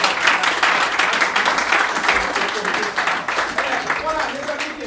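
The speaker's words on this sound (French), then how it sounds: "Est-ce qu'on peut acclamer?" Congregation clapping and cheering during a Sunday church service, a dense sustained wash of applause lasting several seconds with voices mixed in.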